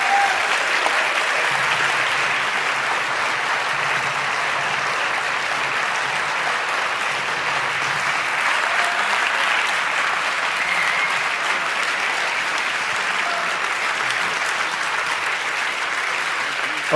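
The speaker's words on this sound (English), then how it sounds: "we can give more applause because we want to have them back here on stage." Audience applause after a performance, a steady dense wash of clapping from a large crowd that stays loud and even throughout without any talk.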